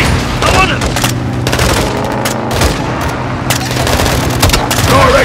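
Heavy combat in Call of Duty Modern Warfare II, with dense rapid machine-gun fire and a launcher blast, loud and continuous with booming impacts, as shouting voices cut through.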